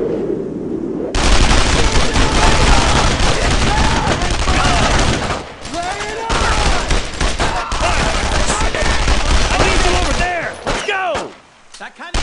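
Dense gunfire and automatic weapon bursts in the World War II shooter Brothers in Arms: Road to Hill 30, nearly continuous and loud from about one second on, with shouted voices mixed into the battle.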